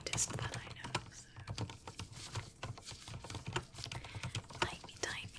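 Soft, close keyboard typing in irregular quick clusters of keystrokes, with faint whispery breath and low murmured sounds mixed in.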